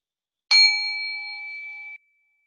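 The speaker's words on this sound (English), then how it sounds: "Now go ahead and ring the bell to start" A single meditation bell is struck once, giving a clear bright ring that rings out evenly and fades over about a second and a half before cutting to silence.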